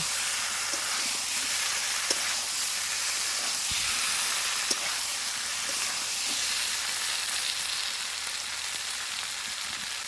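Eggs fry with spice masala in a pan at a village kitchen, giving a steady, dense sizzle that runs the whole time with occasional clicks of stirring, close and fairly loud, with no talking.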